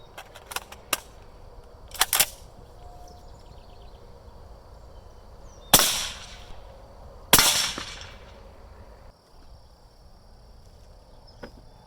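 Rifle shots of Ball .308 rounds strike an AR500 steel plate outdoors: several sharp cracks with a short ringing tail, two strongest near the middle, spaced by quiet ambient hiss and insects.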